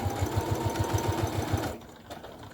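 Sewing machine stitching a fabric wallet near a clasp, a steady close mechanical chatter of rapid regular needle strokes that stops abruptly, leaving quiet room tone.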